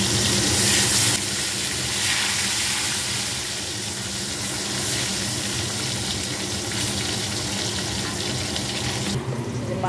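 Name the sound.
potatoes frying in oil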